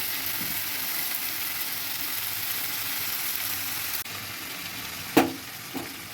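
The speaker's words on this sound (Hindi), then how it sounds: "अब इसको अच्छे से फ्राई करूँगी।" Spices such as turmeric, cumin, coriander and Kashmiri red chili powder fry in oil in a pan, a soft steady sizzle with a couple of sharper clinks near the end.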